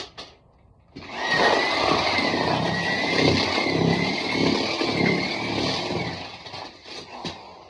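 A paddle mixer churns a bucket of sand and wax, producing a continuous loud motor roar with gritty scraping that runs steadily for several seconds after a quiet start, then tapers slightly toward the end.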